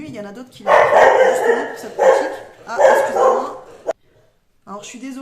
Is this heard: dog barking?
yes